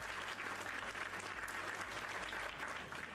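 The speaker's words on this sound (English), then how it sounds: "Cookie, you deserve a round of applause for that" Faint, steady clapping sits low behind a constant background hum during a livestream, without spoken words.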